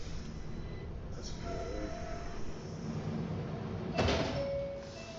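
Subway train sliding doors closing in a video game: a brief clunk and slam of the doors after a soft chime, over steady train rumble, with a brief spoken word nearby.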